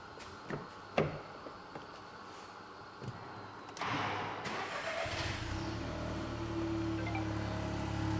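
A few sharp clicks and knocks, then a 1.0 TSI car engine with its resonator deleted settles into a low, steady exhaust burble that continues to the end.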